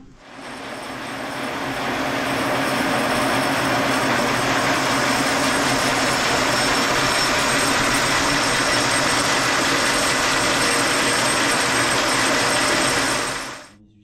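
Industrial factory machine running continuously, a loud, dense, steady roar and whir that ramps up, holds evenly for over ten seconds, then cuts off.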